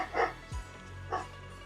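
A few short barks from a dog in Zenless Zone Zero, two sharp yaps separated by a brief pause, close and clear against a quiet background.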